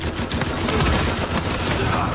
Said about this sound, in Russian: Я в тебя выстрелил столько патронов, чтоб ты сдох